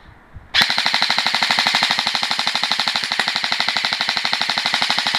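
A Krytac LMG Enhance airsoft gun on a 7.4 volt LiPo battery fires a long full-auto burst, a loud, close, rapid and even mechanical rattle starting abruptly after a brief quiet moment.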